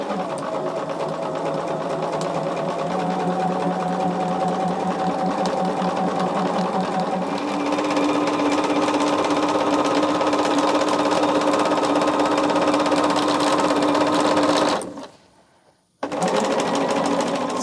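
A sewing machine runs continuously, stitching cream sashing onto a quilt block, a steady whirring hum that shifts pitch partway through and stops briefly near the end before resuming.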